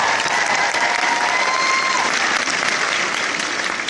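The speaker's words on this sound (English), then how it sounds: "So a big round of applause for you guys." A large convention crowd at a sci-fi expo applauds, dense sustained clapping with some cheers and whistles throughout, steady and loud from start to finish.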